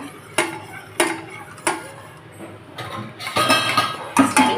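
A spoon stirs a jelly mixture in a pot, striking the rim in a few separate clinks before a busier burst of scraping and rattling takes over near the end. Nobody speaks.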